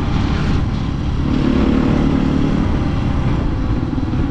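A scooter with blue LED lights passes on a wet road, its steady engine drone loud and close throughout without pause.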